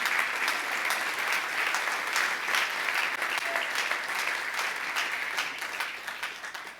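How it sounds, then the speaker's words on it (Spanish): A church congregation claps loudly and steadily, a dense, even roar of many hands filling the room from start to finish. "Dele fuerte ese aplauso al Señor"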